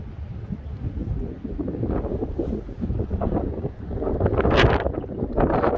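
Strong wind buffets a fishing boat at sea on a winter flounder trip, a continuous rough roar with gusty surges and microphone rumble that grows louder toward the end.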